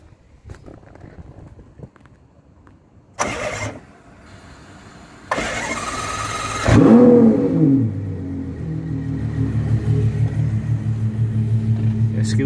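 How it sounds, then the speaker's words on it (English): A 2012 Ferrari FF with a 6.3-litre V12 is recorded near the exhaust: a couple of short starter bursts, then the engine catches with a loud bark and settles into a deep, steady idle rumble. "So we'll start the engine."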